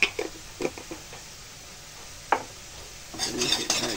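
Sambal being stir-fried in a pan gives scattered scraping and clinking of a spatula against metal, with a few sharp knocks and then a soft rising sizzle near the end, close and without talk.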